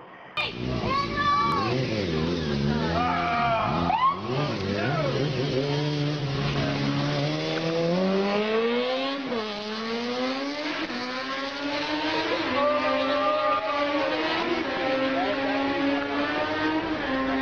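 A motorcycle engine revs and accelerates hard while the rider flees police, its loud whining pitch rising and falling through repeated gear changes, continuous and close for the whole stretch.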